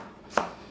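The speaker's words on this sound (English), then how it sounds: "Goes through the carrot like butter." A single crisp chop of a Masakage Shimo knife cutting cleanly through a carrot on a board, one short sharp knock in otherwise quiet surroundings.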